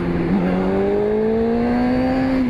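A Honda superbike engine holds a steady rev around 5,000 RPM, its tone climbing slowly and smoothly for a couple of seconds, loud and close with no talking.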